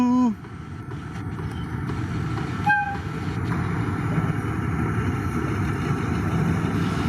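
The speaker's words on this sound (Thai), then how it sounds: "แล้วก็เสียงของ อันสตอม คู่กันมาครับ แข่งกันมา" An Alstom locomotive rumbles past alongside a suburban train, with a brief horn blast at the start and steady rail noise throughout.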